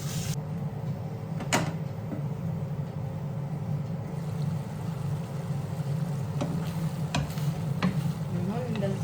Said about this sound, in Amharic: ከዛ ትንሽ እንከድነውና መልሰን እናማስላለን